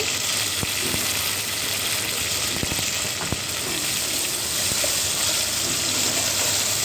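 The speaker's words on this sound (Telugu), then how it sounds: "కొత్తిమీర, పుదీనా కూడా వేసుకొని కొంచెం సేపు ఫ్రై చేసుకొని" Coriander and mint leaves frying in a pan for coconut rice and country chicken curry, a loud, steady sizzle and hiss throughout with a few faint clicks of a utensil.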